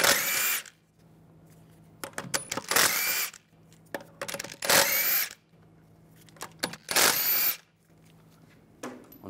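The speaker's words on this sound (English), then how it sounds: "Take the lug bolts out." A power tool with a 17 mm socket spinning out the rear wheel lug bolts on a 2006-2009 Mercedes-Benz E350, several loud whirring bursts separated by short pauses and light clinks, close up.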